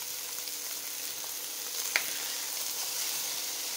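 Beef and bacon patties fry in a pan with a constant bright sizzle, steady and close, broken by one brief clink or scrape midway.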